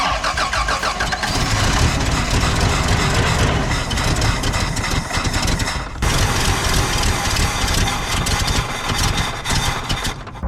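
A Toyota Land Cruiser engine runs on gasoline, loud and close, a continuous rough idle with ticking, rattling mechanical noise throughout.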